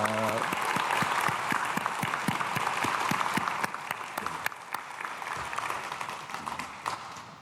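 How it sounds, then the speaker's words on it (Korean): A church congregation applauds a vocal quartet after a Sunday worship song, a dense, even wash of clapping that fills the room and holds steady before slowly thinning toward the end. "우리 박수하겠습니다"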